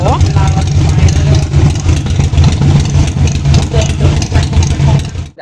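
A Harley-Davidson Sportster, newly tuned with a Fuelpak3 module, runs at a steady, loud, low idle nearby, its throbbing rumble continuing throughout while people talk around it.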